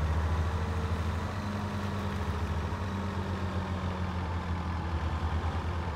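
Steady tractor engine idling in Farming Simulator 17, a low continuous drone with a constant hum that stays level and moderately loud throughout, with no talk over it.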